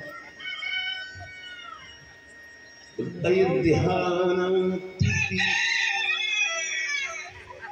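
A human voice imitates a rooster crowing, giving two long, loud, strained cock-a-doodle-doo calls in a row, preceded by quieter voiced sounds in a tonal, sung manner.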